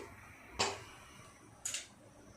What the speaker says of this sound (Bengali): গ্যাসটা অন করে দিই।